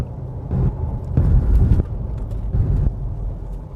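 Mazda Skyactiv diesel engine idles and runs in a low, rough drone heard from close by, swelling in a few brief surges and buffeted by wind over the microphone, with no voices, just before a DPF regeneration.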